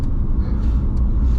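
A BMW E30 with a manual gearbox drives along, its engine giving a loud, steady low rumble from inside the cabin with no break.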